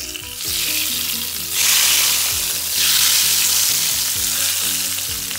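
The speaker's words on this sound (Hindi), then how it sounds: "ये हम अपनी कढ़ाई को तड़का लगाएंगे।" Tarka tempering with curry leaves and whole red chillies hits a karahi of mutton karahi, erupting into a loud, close sizzle that surges twice and keeps crackling steadily.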